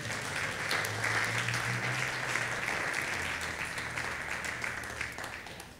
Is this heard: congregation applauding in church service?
yes